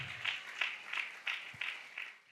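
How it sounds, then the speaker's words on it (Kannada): A church congregation claps hands in praise with a regular rhythm of about seven sharp, moderately distant claps, alone without speech. "ಚಪ್ಪಾಳೆ ಹೊಡೆದು ದೇವರನ್ನ ಸ್ತುತಿ"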